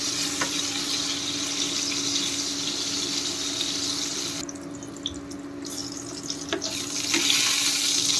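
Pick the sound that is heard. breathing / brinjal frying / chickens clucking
brinjal frying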